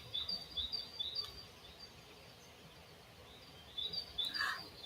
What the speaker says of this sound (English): I like the birds calling out. It's like they're singing a song to us.